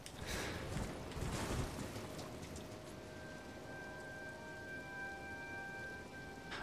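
Continuous rushing patter of blood rain falling in Caelid in the Elden Ring video game, steady and fairly loud, with faint tonal game ambience drifting in the background.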